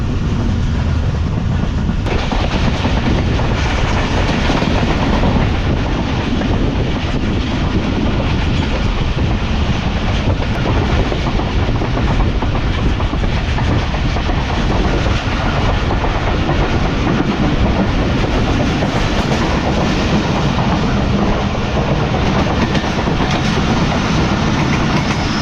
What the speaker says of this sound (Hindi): उससे पहले स्पीड जो ट्रेन की काफ़ी अच्छी है